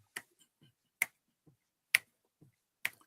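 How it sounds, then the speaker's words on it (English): Finger snaps keep tempo for a reggae band before the music starts: four sharp, evenly spaced snaps about a second apart, with faint softer clicks between them, close and clear over near silence. "they were keeping tempo with a finger snap"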